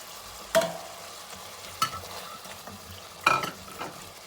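Chicken and carrots frying and being stirred in a pan for chicken fried rice, with a soft steady sizzle under three sharper stirring scrapes spaced a second or so apart.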